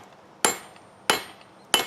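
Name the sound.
hammering a hot Damascus steel forge weld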